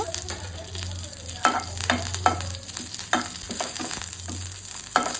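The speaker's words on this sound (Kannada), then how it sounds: "ಚೆನ್ನಾಗಿ ಸೀಸ್ಬಾರ್ದು, ಲೋ ಫ್ಲೇಮಲ್ಲಿ ಹುರ್ಕೋಬೇಕು" Peanut chutney powder spices with garlic, turmeric, tamarind and curry leaves roasting on low flame in a pan, with a soft sizzle and repeated scraping stirs of a spatula, several distinct strokes over a low background hum.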